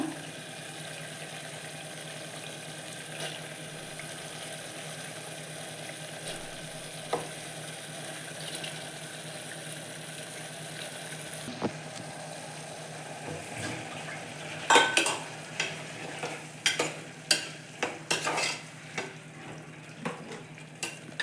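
Soaked dried green gram tipped into a hot pan brings a steady low sizzle, then a cluster of louder clatters and stirring scrapes near the end, close by.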